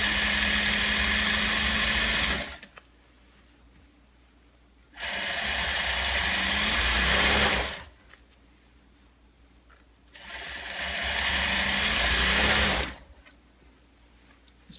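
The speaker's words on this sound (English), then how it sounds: "So we're only going to sew along the bottom for now, using a 1/2 inch sewing allowance." An industrial-speed sewing machine stitching along the bottom hem of a fabric valance, running in three loud, steady bursts of about two and a half seconds each, separated by quiet pauses.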